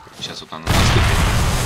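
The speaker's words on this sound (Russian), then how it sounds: "Окружена минами. Они сейчас будут взрываться на них." Landmine explosion at a military base in the video game 7 Days To Die: a loud, sustained blast roars in abruptly after a brief quieter lead-in and fills the rest of the moment.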